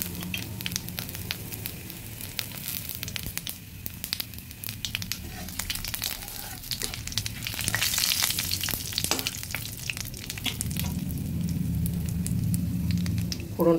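Whole cumin seeds, bay leaf, cinnamon, cardamom and cloves sizzle in hot oil for a Bengali doi katla fish curry, a steady crackling fry with sharp pops and occasional spatula scrapes.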